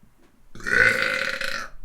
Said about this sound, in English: And we got the obligatory like burping.